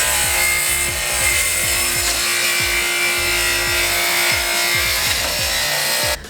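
A hand saw crosscuts excess wood off a laminated cutting board blank, a close, steady run of quick rasping strokes that continues for several seconds with no talking.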